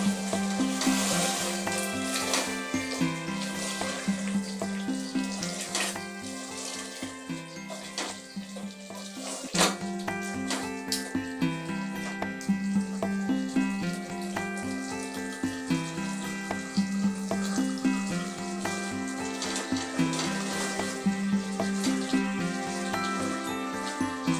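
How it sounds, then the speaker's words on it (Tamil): Chicken with biryani masala, yogurt and lemon sizzles steadily in a pressure cooker pan, a close, continuous frying hiss with occasional stirring clinks throughout. "இப்போ பிரியாணி மசாலா சிக்கனு எல்லாம் நல்லா வதங்கிடுச்சு"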